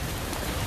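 Heavy rain pours down steadily as a dense, even hiss close by, with no talking over it.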